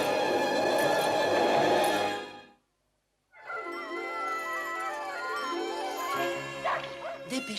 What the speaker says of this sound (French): Ces aboiements me font peur.